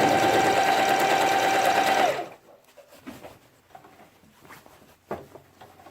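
A sewing machine runs fast and loud for about two seconds with a steady mechanical whir, then stops. Quiet handling noises and small taps follow.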